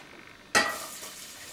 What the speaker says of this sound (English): So you start off with frying some onion.